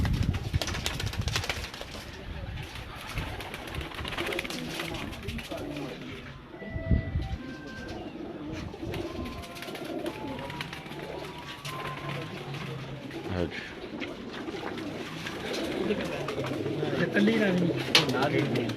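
Golden pigeons coo on a rooftop loft, soft repeated low calls blending with other birds and steady background activity, with people talking nearby throughout.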